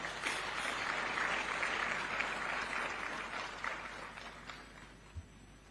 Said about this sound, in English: Let's clap for the financial services.